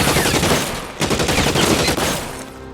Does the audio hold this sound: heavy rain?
no